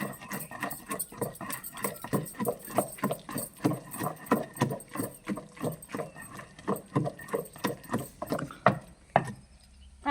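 Onion pieces are pounded in a stone mortar for chutney in a home kitchen, a run of regular hollow thuds about two or three a second, close and fairly loud, with no talk.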